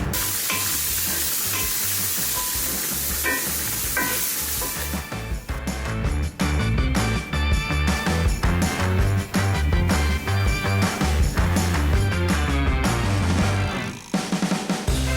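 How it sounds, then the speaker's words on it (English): Onions frying in bacon grease in a pan, a steady loud sizzle with clattering stirring and scraping that grows busier partway through, no voices. "taking out most of the bacon grease but leaving some just for that flavor to get inside the onions"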